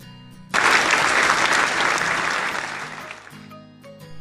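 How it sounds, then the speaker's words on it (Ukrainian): A group of children claps their hands together in a summer-activities game, a dense burst of applause that starts abruptly, holds steady for about three seconds, then fades out. "пропоную вам плескати у долоньки"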